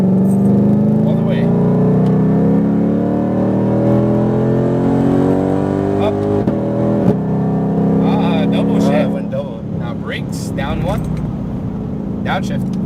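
A car on a track accelerates out of a turn, its engine revving and climbing steadily in pitch, close and loud, while a person talks over it.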